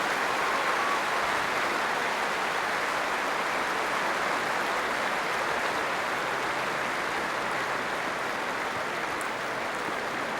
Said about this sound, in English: A standing ovation all around centre court, and deservedly so.